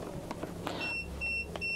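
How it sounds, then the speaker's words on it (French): Electronic beeping inside a Rapido i96M camper van: a series of short, clear tones repeating in a regular pattern at moderate volume over a low background hum. "Je sais pas pourquoi ça fait bip bip bip."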